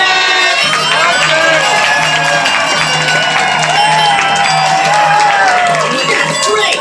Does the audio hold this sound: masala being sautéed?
no